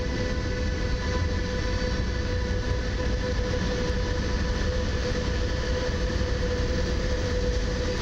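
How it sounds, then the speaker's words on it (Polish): A Pesa Gama electric locomotive with a half pantograph pulls out of Warszawa Zachodnia toward Warszawa Główna, producing a steady motor whine with distinct tonal hums over a constant rolling rumble, moderately loud. "Pesa Gama, połówkowy pantograf. I Gama udaje się w kierunku Warszawy Głównej."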